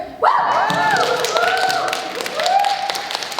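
A comedy club audience at a stand-up show breaks into dense, steady applause, with whoops and cheering voices rising and falling above the clapping.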